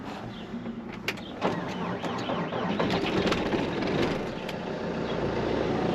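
An old farm vehicle called Jinxie starting up on a cold morning around 30 degrees, its engine catching after a brief crank and settling into a steady close idle that runs to the end.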